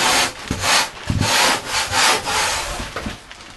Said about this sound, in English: I'm going to switch off to my sanding block for a bit